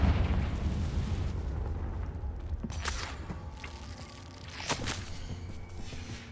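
A fire spell explosion in Hogwarts Legacy bursts with a low rumbling boom, followed by sharp crackling impacts and a second burst of debris, mid-distance and fairly loud amid game ambience.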